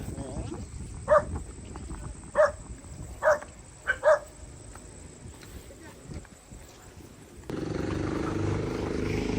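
A dog barks a handful of times at a campsite, spaced a second or so apart, over steady outdoor background hum and a low murmur.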